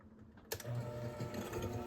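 An electric mixer switches on and beats shortening and sugar for snickerdoodle cookie dough, a sudden start followed by a steady whirring drone, close and continuous.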